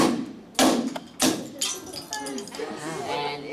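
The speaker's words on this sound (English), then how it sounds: "if you actually hit it with a hammer," A hammer strikes an object frozen in liquid nitrogen, giving two sharp, close impacts that shatter it, followed by scattered clinking of pieces under a voice talking.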